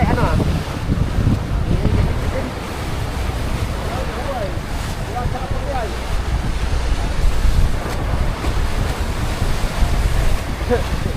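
Pacific Ocean waves breaking and washing along the shore, a continuous roaring surf with strong wind buffeting the microphone, loud and close throughout, with people talking faintly underneath.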